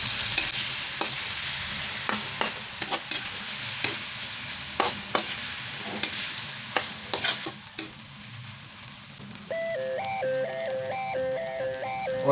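A utensil stirs shrimp paste with eggplant and ground pork in a pan, making repeated sharp scrapes and taps over a soft continuous sizzle. Toward the end a tinkling melodic chime plays in the background.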